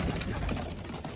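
Pigeons cooing in a rooftop loft aviary, several birds producing close, continuous soft throaty coos that overlap with no talking.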